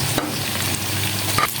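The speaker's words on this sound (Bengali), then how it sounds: "এটাকে আমি 2 মিনিট ভেজে নিব" Chopped papaya stir-fries with garlic and ginger over high heat, giving a steady sizzle close up with a couple of sharp spatula scrapes against the pan.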